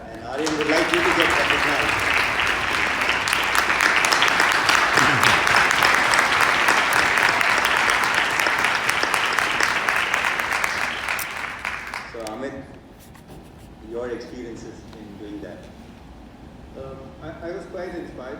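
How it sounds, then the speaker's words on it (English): Audience applause at an impact summit, dense and loud for about twelve seconds before fading out, followed by a speaker talking. "Big round of applause for that."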